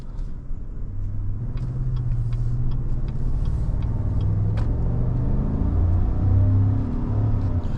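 A 2019 Chevrolet Silverado RST with a 5.3-liter V8 and 8-speed automatic pulls away from inside the cab, a steady low rumble whose engine tone climbs and drops as it shifts through the gears.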